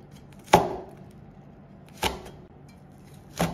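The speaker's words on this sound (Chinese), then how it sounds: "接下来我们再来切点小米辣" A knife chops bird's eye chili peppers on a cutting board in a kitchen, giving three sharp, separate knocks spaced a second or more apart, close and distinct, with no talk.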